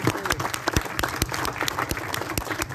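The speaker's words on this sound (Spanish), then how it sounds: "Un aplauso." Audience applause at a ceremony in Pénjamo handing over rehabilitated dams: steady, dense clapping from a crowd, with sharp individual claps standing out throughout.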